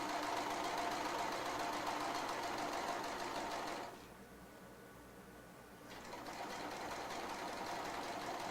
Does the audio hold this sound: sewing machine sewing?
yes